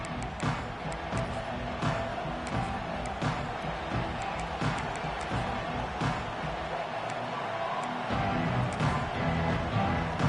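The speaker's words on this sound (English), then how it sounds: "This crowd ready to make its presence known." A stadium crowd at a Texas Tech versus Tennessee college football game: a steady roar of voices and cheering, fairly distant and continuous throughout, under a commentator's play-by-play.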